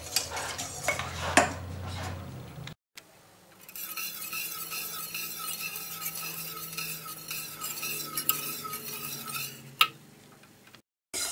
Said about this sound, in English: sprinkle 100 gram of gelatin on top and place on stove on low heat. Mix until it's dissolved entirely.